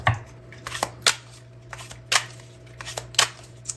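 A deck of tarot cards gets shuffled by hand, with sharp papery riffles and slaps arriving in irregular bursts, close up and with no talking.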